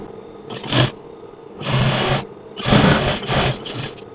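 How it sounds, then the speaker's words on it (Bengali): A sewing machine stitches a sleeve hem in short bursts, running in three close, loud whirring runs separated by brief pauses. "এখন আমরা হাতার মুখের মাপ ঠিক রেখে হাতার মুখে সেলাইটা দিয়ে নেব"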